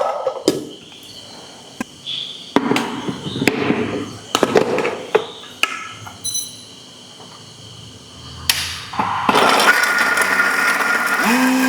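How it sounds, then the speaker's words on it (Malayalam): Ginger and garlic go into a mixer grinder: a run of scattered clattering knocks as the jar is loaded and fitted, then the motor starts with a loud, steady whirring roar that lasts to the end. "നമുക്ക് ആദ്യം ഇഞ്ചിയും വെളുത്തുള്ളിയും മിക്സിയിലിട്ട് അരക്കാം."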